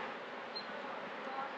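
Honey bees hum in a dense, steady drone from an open beehive colony, close and continuous with no pauses and no talk over it.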